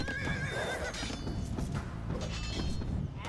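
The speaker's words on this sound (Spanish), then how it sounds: "Vamos a sacar unos caballos de exploración." Scout cavalry horses in Age of Empires II neigh loudly, with a high whinny at the start over dense game noise and hoof clatter.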